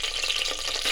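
Whole spices sizzle in about two and a half spoons of hot oil in a kadai, a steady, close crackling hiss with no voices.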